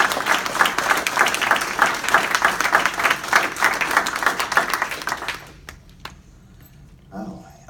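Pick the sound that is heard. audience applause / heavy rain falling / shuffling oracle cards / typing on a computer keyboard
audience applause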